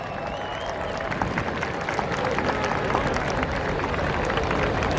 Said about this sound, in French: On peut l'applaudir bien fort